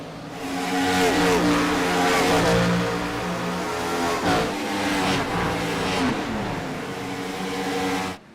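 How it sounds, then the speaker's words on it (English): Loud IROC race car engines scream past one after another at Atlanta, pitch sweeping down as each passes, with a continuous high-revving roar throughout. "You listen to these cars fly by in the speed shot"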